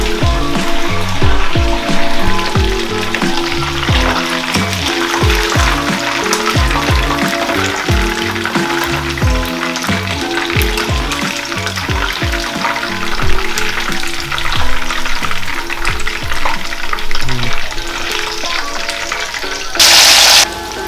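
Garlic chicken kabab pieces double frying in hot oil, a loud steady sizzle with crackling throughout and a brief burst of brighter hissing near the end; no talking.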